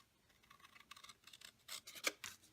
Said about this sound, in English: Let's use the bigger scissors.